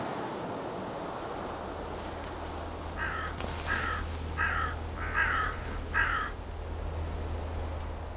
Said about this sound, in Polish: Jedna odważniejsza wrona zabiera się do miękkiej części.